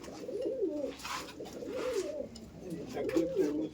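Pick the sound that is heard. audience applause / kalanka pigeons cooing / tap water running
kalanka pigeons cooing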